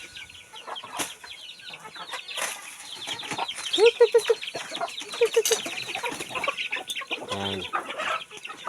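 Chickens on a small farm cluck and squawk in scattered bursts amid rustling and flapping, with a person speaking briefly nearby.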